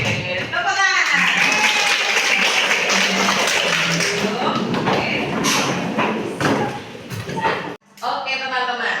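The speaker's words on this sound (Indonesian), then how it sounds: "Tepuk tangan." Children in a classroom clap their hands during a class song, a busy mix of taps and claps with voices chattering over them, a brief pause, then talk resumes.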